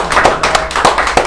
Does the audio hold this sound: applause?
yes